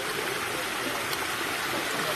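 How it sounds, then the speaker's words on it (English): Broadband rush of a large waterfall spilling at the bottom of a newly built bass pond, loud and steady throughout with no talk over it. "you've got to see this monster waterfall at the bottom"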